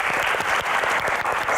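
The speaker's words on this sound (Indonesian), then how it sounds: "Tepuk tangan sekali lagi untuk para panelis." An audience claps together for a discussion panel in a dense, steady burst of applause, loud and sustained throughout.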